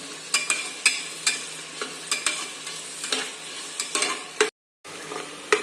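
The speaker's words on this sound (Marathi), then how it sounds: "अगदी तांबूस होईपर्यंत त्याला परतणार आहोत आपण कांद्याला।" Onions for mutton biryani sautéed in masala, stirred with a spoon in rhythmic scraping strokes over a soft sizzle, close and clear, with a brief silent gap near the end.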